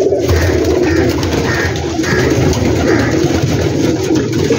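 Pigeons cooing on a large rooftop loft in Gujranwala housing some 2000 birds, repeated soft coos rising over a constant dense background of flock noise and wing rustle, fairly loud and close.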